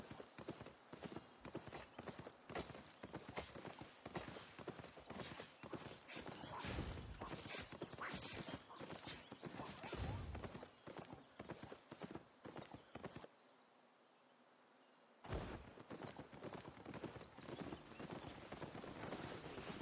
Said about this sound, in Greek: Εμείς θα ανεβούμε στο αλογάκι μας.